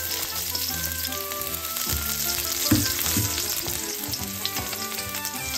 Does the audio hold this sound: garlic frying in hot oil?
yes